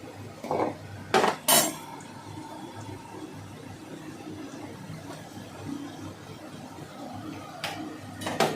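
A pot of cooked rice is lifted off the stove with a few sharp metallic clanks and knocks up close, then a quieter stretch of kitchen background and a final clunk.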